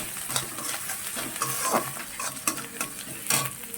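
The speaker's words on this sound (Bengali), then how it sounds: "এবার আদাটা রসুনটা ভালো করে ভেজে নিতে হবে" Ginger and garlic fry in a pan for an egg kalia curry, a steady close sizzle broken by frequent scraping stirs, with no talking.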